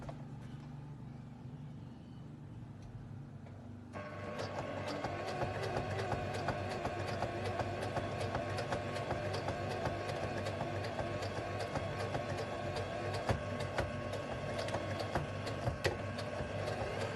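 A sewing machine stitching down the side of a homemade fabric mask starts after a quiet moment, then runs as a steady close mechanical whir with rapid rhythmic needle clatter for over ten seconds, with no talking.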